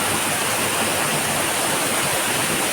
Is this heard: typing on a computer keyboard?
no